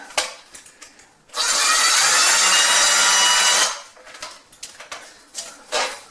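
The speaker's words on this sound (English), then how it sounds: "just kind of drill in" A power drill whines loudly into wood for a few seconds while a closet shelf is fitted, preceded and followed by scattered knocks and handling taps nearby.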